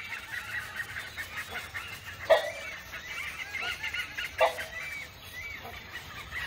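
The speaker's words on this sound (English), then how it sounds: "This is the brown hornbill. The rufous-necked hornbill." Rufous-necked hornbill, also called the brown hornbill, giving faint, distant honking calls, a few short separated notes over quiet background ambience.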